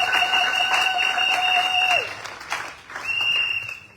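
Loud applause from a church congregation praising the Lord, a dense wash of clapping and cheering with a sustained tone over it that breaks off, then the clapping continues.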